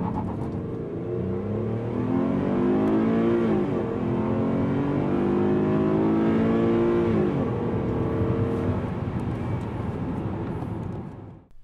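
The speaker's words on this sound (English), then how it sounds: "The direct-injected 3-liter V6 does an acceptable job off the line in front-wheel drive trim." A 2010 Cadillac SRX with a direct-injected 3-liter V6 and front-wheel drive accelerates from a standstill, its engine note climbing steadily through gear changes, loud and close inside the cabin for about eleven seconds before cutting off.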